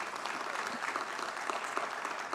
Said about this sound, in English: Our Honorable Minister deserves to have a loud applause to show our gratitude